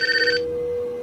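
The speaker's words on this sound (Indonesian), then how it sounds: "Hingga beberapa saat kemudian Wojin menghubungi profesor" A telephone rings with a brief electronic trill that stops after a fraction of a second, leaving a steady tone hanging under it, loud and close with no voices.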